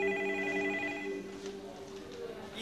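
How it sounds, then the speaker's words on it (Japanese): A telephone rings in a steady repeating tone, moderately loud, as a voice speaks over it. "お電話です。"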